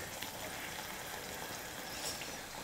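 Maida snack frying in moderately hot oil over a medium flame, a soft, continuous bubbling sizzle with a faint steady hiss and no voices.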